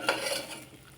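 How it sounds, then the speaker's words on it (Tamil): Okra gravy ingredients being stirred and sautéed in a pan, a brief scrape of the spoon over a soft, steady sizzle that fades out quickly. "ஒரு நிமிஷம் நல்லா வதக்க விட்டுட்டு"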